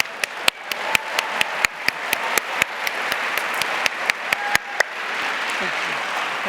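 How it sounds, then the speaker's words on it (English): A modest audience claps at a panel discussion on sexual violence in India; distinct individual claps ring out rhythmically at first, then blur into a softer, steadier patter toward the end. "Let's give a round of applause to Leslie and Barkha."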